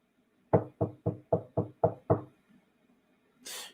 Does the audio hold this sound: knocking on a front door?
yes